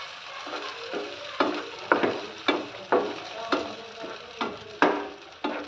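Tomato puree mixture stirred into well-fried onions for a cashew paneer curry, giving a steady sizzle with repeated scraping stirs, close and fairly quiet, no talking.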